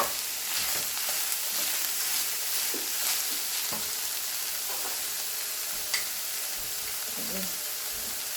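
Ground meat with homemade taco seasoning fries in a skillet for Mexican pizza, giving a steady close sizzle broken by occasional scrapes and taps of the stirring utensil.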